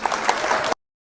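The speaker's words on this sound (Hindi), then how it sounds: "सभी ने तालियों से उसका स्वागत किया" Applause sound effect in a Hindi story, a short burst of steady clapping from a crowd that fills the moment and then cuts off abruptly.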